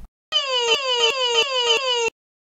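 An ambulance siren wails in steady repeating cycles, each tone sliding downward then snapping back up, loud and close for about two seconds before cutting off.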